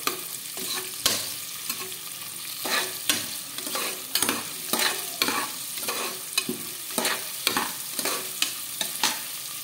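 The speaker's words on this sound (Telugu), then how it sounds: "ఆనియన్స్ గోల్డెన్ బ్రౌన్ కలర్ వచ్చే వరకు బాగా ఫ్రై చేసుకోవాలి" Onions and spring onions fry with cumin in a pan for spinach rice, a steady oily sizzle under repeated, rhythmic spatula scrapes and stirs that recur every second or so throughout.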